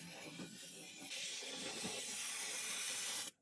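Steady hiss of steam from a McCulloch MC1375 steam cleaner used inside a car interior, faint at first, then stronger and constant for several seconds before cutting off abruptly.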